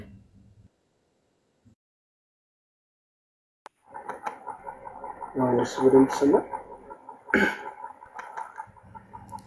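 A hen clucks faintly in the background, intermittent bursts coming after a near-silent opening, with muffled voices and room noise around it.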